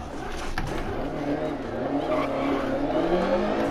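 Lancia Evo 2 rally car sliding on tarmac in DiRT Rally, engine droning steadily with rising pitch and tire scrub, loud and close throughout, with a voice talking over it.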